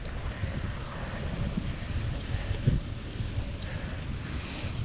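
Wind rushing past a cyclist's camera on a beachfront path in Los Angeles, a constant close rumble of gusts with distant waves hissing underneath.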